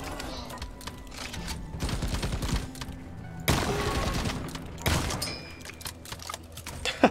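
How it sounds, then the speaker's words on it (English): Rapid gunfire from Deep Rock Galactic, with repeated shots and loud bursts ending in a bright metallic ping near the end. "Is that the M1 Garand ping?"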